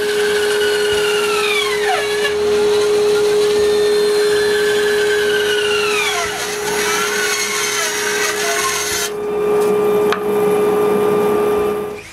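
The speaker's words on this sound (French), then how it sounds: "je trace les poteaux verticaux puis je les coupe" Wooden posts for sawhorses are cut with a loud, steady power saw whose whining pitch dips and recovers as the blade bites, continuous and close with no voices.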